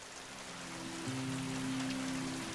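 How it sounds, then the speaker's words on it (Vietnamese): Heavy rain falls outside, a faint, even hiss that holds steady from start to end with no talk, a low hum lying under it. "ngoài trời mưa to ghê mẹ"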